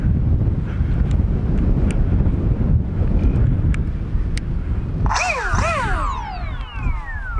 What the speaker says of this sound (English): Oh, there's a lot of wind.